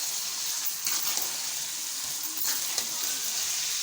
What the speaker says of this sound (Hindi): देखें ये हमने चिकन जोन सा है वो हमने इसके अंदर डाल देना प्याज के अंदर। देन हम इसको हिलाएंगे चम्मच से।